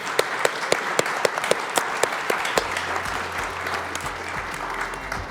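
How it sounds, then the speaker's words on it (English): A conference audience claps steadily after a game development panel, with a few sharp individual claps standing out early on, the applause then thickening into a steady wash. "Let's have a round of applause, please,"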